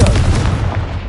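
A Confringo spell blast in Hogwarts Legacy, a single loud, close booming explosion with a heavy low rumble that fades over about a second.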